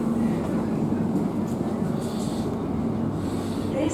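A TfL Rail Class 345 electric train runs steadily near West Ealing, giving a continuous low rumble and rolling hum from inside the carriage with a faint whine, the noise even throughout.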